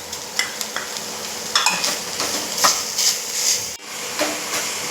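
Jaggery and grated coconut with crushed cardamom being stirred as they melt in ghee in a pan, with a soft continuous sizzle and scraping stir strokes close by, steady and moderately loud.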